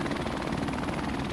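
Helicopter rotor and engine drone in Call of Duty: Modern Warfare Remastered, a steady, dense whir that fills the whole moment without pause, moderately loud and unchanging, with no talk over it.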